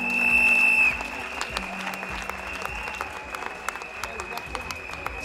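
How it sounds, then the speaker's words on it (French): An audience at a singing-contest final breaks into scattered, moderately loud applause that runs on steadily after a brief held musical tone fades out at the start. "Je vous demande de faire une ovation"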